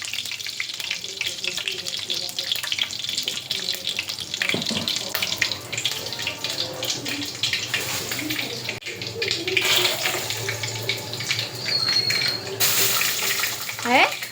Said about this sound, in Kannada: ಅದು ಬುಟ್ಟಿ ಇಟ್ಟಿ ಅಲ್ಲಿ ಅದಕ್ಕೆ ನೀರು ಬೀಳತ್ತ